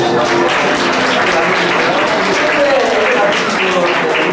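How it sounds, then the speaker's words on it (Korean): A church congregation applauds during a Sunday worship service, a steady dense wash of clapping that holds loud and even throughout, with faint voices mixed underneath. "여러분 박수해 주십시오"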